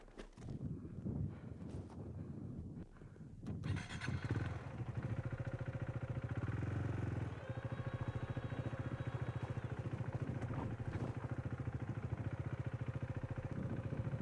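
A Husqvarna Svartpilen 401 motorcycle idles and revs low while reversing on rough ground at a mine, its single-cylinder engine a steady close throb after an opening stretch of wind noise and rustling.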